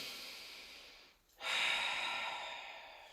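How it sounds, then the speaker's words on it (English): Slow, deep breathing during a leg stretch in a functional flow class with light weights: a long soft exhale, a brief pause, then a fuller airy inhale, close and steady with no talking. "Maybe increase the stretch by bringing the leg in towards you for one more deep breath."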